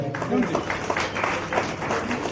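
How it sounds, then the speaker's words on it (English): An audience at a Lions International district event claps together in a steady patter of scattered hands, mixed with some voices talking in the room. "Great applause."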